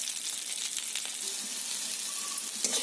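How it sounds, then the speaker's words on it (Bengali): Pieces of pointed gourd (potol) frying in mustard oil in a kadai, a soft, steady hiss of sizzling with a few faint crackles and one small clink near the end. "পটলগুলোকেও খুব ভালো করে ভেজে নেব।"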